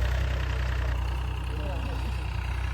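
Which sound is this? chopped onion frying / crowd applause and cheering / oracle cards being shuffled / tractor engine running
tractor engine running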